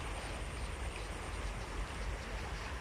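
Constant rushing water, a strong stream flowing steadily with dense broadband hiss and no voices.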